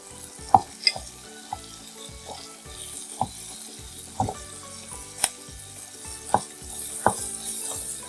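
Green chilies and curry leaves stirred into hot oil for a prawn curry, with a steady background sizzle and several sharp spoon-on-pan scrapes and clinks.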